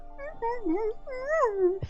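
Dog whining and whimpering with shifting, voice-like pitch, a long wavering whine in two drawn-out phrases, close and fairly clear, ending in a short low sound.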